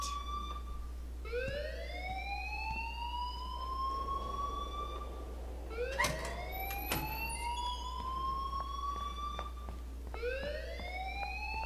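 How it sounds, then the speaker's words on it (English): An alarm in the video game Life is Strange wails in repeated rising sweeps, each one climbing and holding, with brief gaps between them and a low steady hum underneath. "please turn off that alarm since that's your job"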